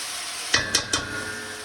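A sofrito of carrots, onions and celery with a touch of garlic sizzles steadily in extra virgin olive oil, broken by three quick clinks of a utensil stirring against the pan.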